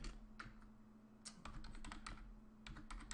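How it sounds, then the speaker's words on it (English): Soft, close keystrokes as a question is typed on a computer keyboard, irregular clusters of taps over a low steady hum, no voices. "I'll just simply be able to type in a question for the group"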